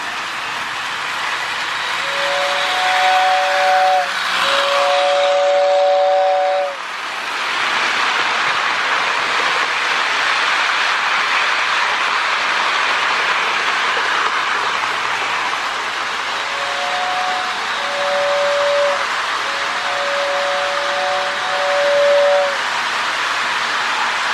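A small Lionel 2036 Adriatic model steam locomotive with whistle tender chugs steadily along with a steady hiss, its shrill whistle sounding in two short paired blasts early on and again near the end.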